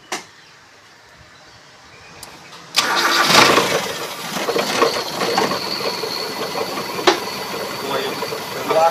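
A hybrid car engine is started after a quiet pause, catching abruptly and settling into a steady, fairly loud idle with a few brief rises in revs.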